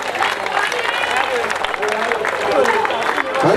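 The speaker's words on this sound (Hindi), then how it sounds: "स्वामी भाई का जोरदार तालियों के साथ स्वागत" Applause and crowd noise roll steadily for a cricket final at DSC Ground, greeting a guest as he is welcomed. The clapping is dense and continuous at a fairly even loudness, and voices mix into the crowd.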